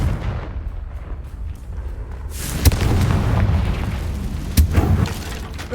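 A Confringo spell explodes in Hogwarts Legacy, a sudden boom with a sharp crack that rumbles and decays, followed by a second shorter blast near the end, loud and close over game ambience.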